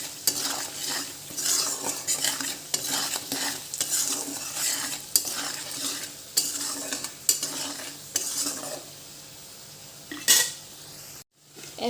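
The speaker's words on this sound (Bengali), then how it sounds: "একটু ভালো করে কষে নেব।" Ground spices are stir-fried in a pan for a taro-stolon and jackfruit-seed curry, with steady scraping and stirring of a spoon against metal and a soft sizzle, close and continuous, with no talking.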